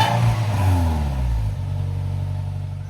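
Toyota Innova V 2.0 petrol engine with an oil-burning fault revved hard once, a loud rising roar that drops back to a steady, rumbling idle.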